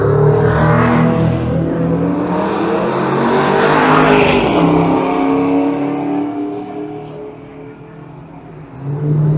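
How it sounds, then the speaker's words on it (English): A Toyota Celica drives on Goodwood Motor Circuit at a retro car weekender. Its engine note rises loudly as it approaches, peaks as it passes close by, then fades away. "Well, here comes Toyota Celica."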